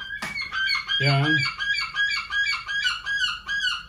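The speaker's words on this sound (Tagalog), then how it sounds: "Ang ingay ng ibon sa labas" Pet chickens outside clucking and a rooster crowing close by, loud repeated calls filling the whole moment, with a single short spoken word near the start.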